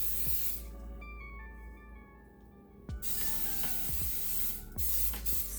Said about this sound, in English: I'm going to spray it with some cooking oil.